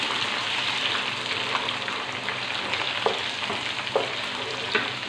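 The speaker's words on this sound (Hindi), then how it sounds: "साथ ही हमने इसमें ऐड करने हैं बॉयल्ड आमंड, जो मैंने कोकोनट और ये किशमिश, ये सब चीज़ें इसमें फ्राई कर लेंगे" Boiled almonds, coconut and raisins frying in a pan, a steady close sizzle with occasional stirring scrapes and small pops.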